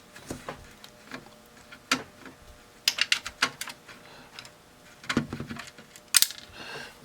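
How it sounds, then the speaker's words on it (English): A screw being undone on a vintage Sansui AU-9900 integrated amplifier during repair: a series of sharp, close metallic clicks and taps in irregular clusters over a quiet background. "We undo this screw."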